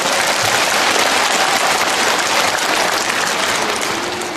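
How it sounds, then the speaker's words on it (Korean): A church audience claps together in steady, dense applause during a Catholic Holy Spirit gathering lecture in Incheon, loud and continuous for several seconds before easing off slightly at the end. "박수 한번 칩시다."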